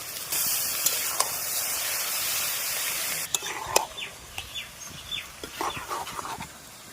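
Onions fry in oil with bay leaf and whole garam masala, a bright hiss for a few seconds that fades into quieter crackling and soft stirring taps, close and moderately loud.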